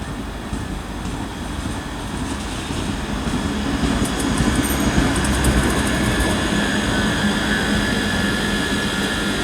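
ScotRail unit 385112 pulls into Dunblane station, a broad rumbling roar that swells after a few seconds and holds steady, with brief squeals and clatter overhead and no one talking.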